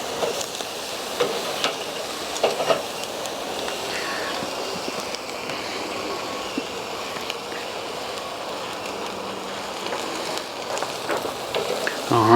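Pork chops searing on an SnS kettle grill, a steady close hiss and crackle of fat over the coals with scattered pops and faint scraping, running continuously without talk.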